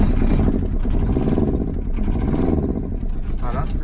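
A diesel vehicle's engine, started from a booster battery alone after preheating, runs loud and steady at close range with a rough clattering idle and some mechanical rattle throughout.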